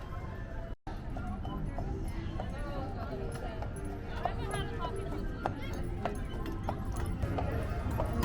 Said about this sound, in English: We just got off of the horse-drawn carriage.